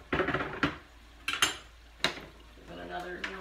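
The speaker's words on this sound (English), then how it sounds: "All right, into the fry pan it goes." Brussels sprouts tumble into a frying pan with several sharp clatters and scrapes of metal and utensils, followed by a soft sizzle building underneath.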